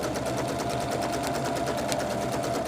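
A sewing machine runs a continuous seam on a patchwork pillowcase, its needle chattering in a fast, even rhythm, steady and close with no talk.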